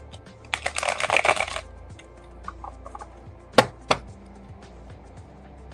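Tarot cards being shuffled during a reading, a dense riffling burst lasting about a second, followed by a few sharp card taps and snaps, close and clear with no talk.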